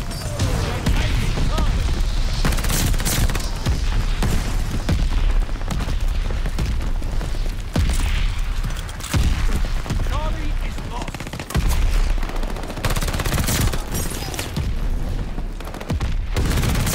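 Dense, loud gunfire and booming explosions in the World War II shooter game Call of Duty: Vanguard keep pounding almost without pause for many seconds, with bursts of automatic fire and heavy blasts layered together, and a voice talks over the barrage.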